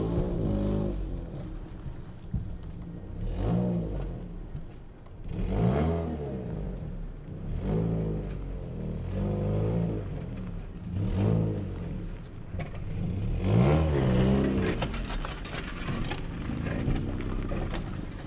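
A Ford Flex engine running, a low steady rumble that rises and swells in several repeated revs, near and fairly loud throughout.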